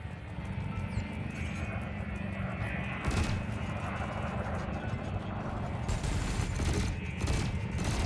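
Burst lasers fire in rapid volleys during space combat in Elite Dangerous Odyssey, a dense crackling barrage over a constant game backdrop, with sharper clusters of shots toward the end.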